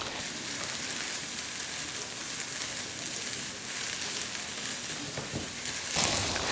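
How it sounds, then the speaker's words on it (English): Vegetables sautéing in a pan for mac and cheesesteak give off a steady, soft sizzle and crackle that holds an even level throughout, with a slight swell near the end and no talking. "Now you're going to saute this for about 6 to 8 minutes until everything gets nice and soft."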